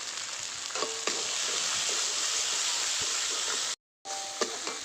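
Spices for a ritha fish red curry fry in a pan with a steady, close hissing sizzle and faint stirring scrapes, broken by a brief moment of silence near the end.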